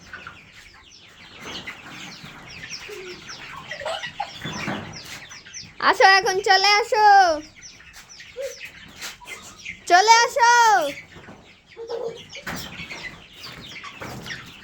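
Chickens and roosters clucking and squawking near a child, with two loud bursts of agitated crowing cackles amid scattered clucks, while someone talks in between.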